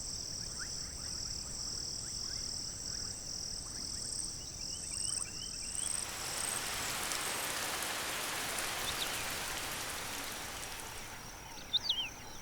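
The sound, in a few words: morning rain shower in Maasai Mara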